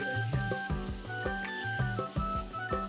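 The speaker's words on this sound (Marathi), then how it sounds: "मी एका पॅन मध्ये 1 टेबलस्पून बटर घेते. आता ह्यात 1 टेबलस्पून गार्लिक चटणी घालूया." Garlic chutney sizzling in a tablespoon of butter in a pan, with a steady close crackle under repeated rhythmic tonal bursts that partly mask the frying.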